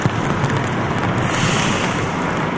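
Strong wind blows steadily in cold New England winter weather, a loud continuous rushing roar with gusty buffeting against the microphone, no voices present.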